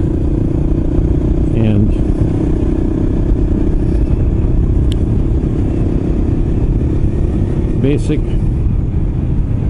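A vehicle drives through a village in Laos, its engine and road rumble loud and continuous throughout, with wind noise and someone speaking briefly over it.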